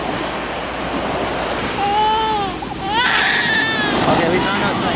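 A baby cries in rising, wavering wails after loud ocean waves crash nearby, with a steady surf rush beneath the cries.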